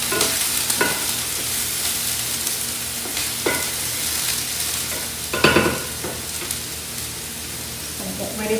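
Spaghetti frittata mixture cooking in a pan over turned-down heat, with a steady sizzle and occasional louder stirring scrapes, close and continuous.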